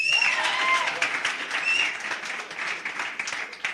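Audience applause fills a Nelson Mandela Day commemoration hall, a sustained, dense wash of many hands clapping at steady loudness with scattered cheers and voices mixed in.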